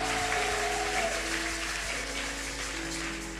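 A church congregation applauding during a French and Lingala worship service, a steady wash of clapping that holds strong and slowly eases off, with a sustained musical tone underneath.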